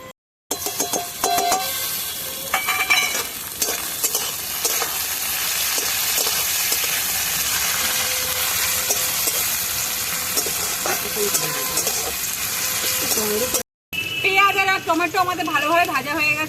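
Onions and tomatoes fry and are stirred in a pan, a steady dense sizzle running almost the whole time with scraping stirs, a brief gap near the end, and a voice talking over the cooking.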